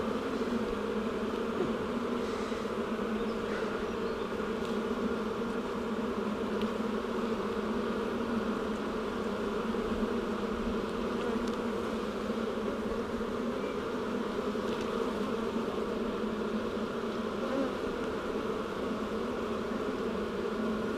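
Steady, continuous buzzing of honeybees around an open hive during a spring inspection, a dense even drone that holds close and constant throughout with no talking.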